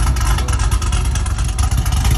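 Chevrolet SS with a supercharged LSA V8 on factory exhaust, a loud, close, thick low rumble with a steady pulsing throb, heard alone over a short burst.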